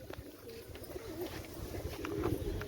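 Pigeons in a rooftop loft cooing softly, low murmuring coos rising and falling over faint background noise, no one talking.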